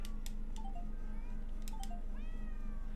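A cat meowing inside a video game, two short rising-falling mews over a steady hum of game background sound, with faint ticking clicks scattered through.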